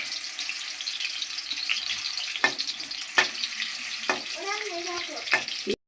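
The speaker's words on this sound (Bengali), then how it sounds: "এবার হচ্ছে কলা ভাজা" Banana slices frying in a pan give a steady close sizzle in a home kitchen, with a few sharp clinks and stirring scrapes of the utensil against the pan.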